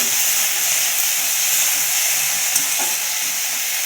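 Ginger-garlic paste browning in hot oil makes a constant, dense sizzle with a soft steamy hiss, close and even for the whole stretch, with a few faint stirring touches and nobody speaking.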